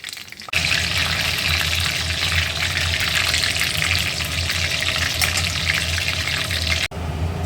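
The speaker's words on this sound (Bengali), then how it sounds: "দিয়ে দিলাম তেজপাতা দিয়ে দিলাম শুকনো লঙ্কা আচ্ছা ফোড়নটা রেডি করে নেব" Bay leaves and dried chillies crackle and sizzle in hot oil for a Bengali tempering, a loud, steady frying hiss that starts abruptly and runs unbroken for several seconds before cutting off.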